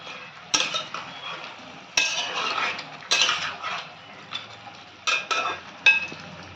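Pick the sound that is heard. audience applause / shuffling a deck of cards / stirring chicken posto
stirring chicken posto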